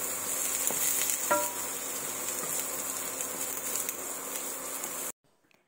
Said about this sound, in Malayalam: നമുക്ക് പച്ചമുളക് അരിഞ്ഞത് ഇട്ട് കൊടുക്കാം.